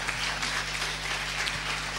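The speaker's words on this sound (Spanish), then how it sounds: "Y dele un aplauso al Señor" A church congregation claps together in a dense, continuous burst of applause that stays loud and even throughout.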